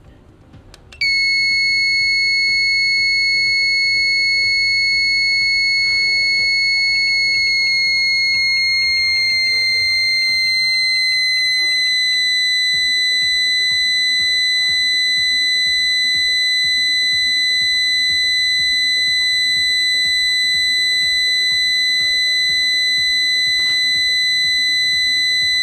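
A piercing 5-volt electronic buzzer starts after a second and sounds continuously, steady and shrill, its tone shifting slightly midway, with faint background noise.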